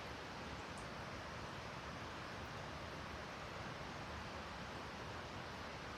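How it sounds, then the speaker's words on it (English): Snowmelt creek below a shaded, snowy woodland slope, a steady faint rushing of flowing water with no break and no voices. "You can hear the water flowing down there."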